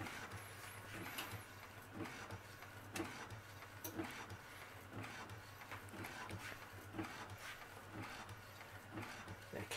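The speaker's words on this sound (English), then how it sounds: "It's not the quickest printer in the world on a high quality setting." A Brother inkjet printer with a continuous ink system runs steadily on a high-quality setting, its carriage whirring back and forth in repeated passes with soft clicks at regular intervals, fairly quiet and close.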